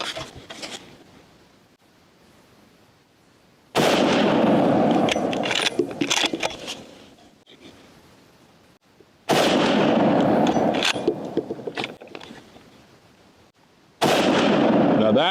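Weatherby 240 rifle fired while sighting in at a range: three sharp, loud shots spaced several seconds apart, each followed by a long ringing decay, with quiet outdoor background between them.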